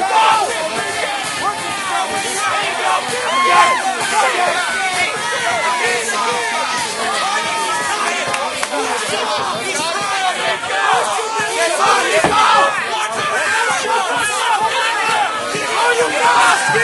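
A fight crowd at the Nico Myers vs. Willis Mace bout cheers and yells steadily, with dense shouting and babble sustained throughout at an even, loud level.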